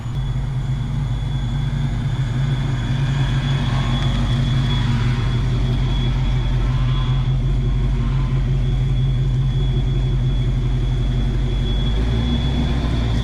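Ford Mustang Foxbody idling steadily with a deep, continuous low rumble and constant drone, running alone without voices for over ten seconds.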